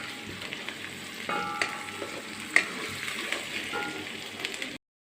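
Sliced onions with salt sautéing in a pan, a soft continuous sizzle with a few brief scraping stir sounds, fairly quiet and close, then cut off abruptly near the end.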